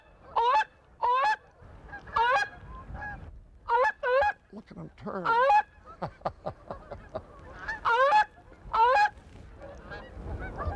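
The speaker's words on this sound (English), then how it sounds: "With thousands of geese wheeling overhead" Thousands of geese wheeling overhead honk loudly in repeated bursts of calls, several birds overlapping, with a brief spoken remark in between.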